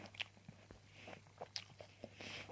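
Someone bites into a crunchy, sweet allotment apple and chews, producing faint, sparse crisp crunches close to the microphone in a quiet outdoor setting.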